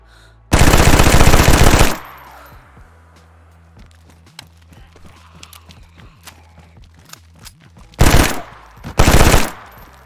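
Loud automatic FAMAS rifle fire in DayZ: a long sustained burst up front, then two shorter bursts near the end, with faint footsteps and ambient game noise between.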